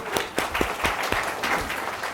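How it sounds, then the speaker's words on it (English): An audience at a young professionals bootcamp opening applauds its advisory board, a steady patter of many hands clapping at moderate volume with a few sharper individual claps standing out. "A round of applause for them."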